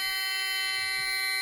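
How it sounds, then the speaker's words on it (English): A Freightliner semi truck cab's warning buzzer drones continuously, a steady harsh electronic tone heard close inside the cab with faint low rumbling beneath. "sorry about the buzzer."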